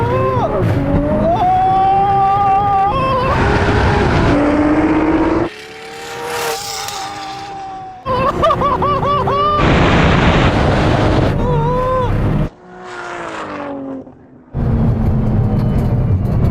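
Nissan GT-R cars, tuned to around 1600, 1000 and 650 horsepower, launching in a quarter-mile drag race: loud, continuous engine roar with rising revs, sharp gear-change dips and bursts of acceleration throughout.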